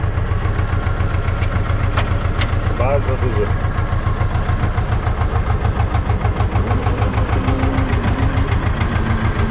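A heavy diesel tractor engine chugs steadily with a rapid low throbbing rhythm while compacting corn silage piles, running close by while a person speaks briefly over it.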